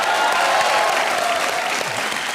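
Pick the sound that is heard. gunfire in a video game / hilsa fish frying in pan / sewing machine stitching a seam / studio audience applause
studio audience applause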